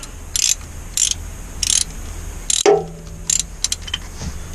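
Ratchet clicking in short bursts while snugging oil pan gasket bolts on a 1987 GM 454 engine in a P30 RV chassis, several quick close ratcheting runs separated by pauses, with a metallic clunk midway.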